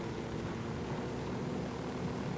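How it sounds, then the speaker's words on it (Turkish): Airplane flying in the Ghost Recon Wildlands video game, a steady, loud propeller-engine drone that holds evenly throughout with no talk over it. "Uçağı böyle sağlı sollu kullanınca daha hızlı gidiyor haberiniz olsun."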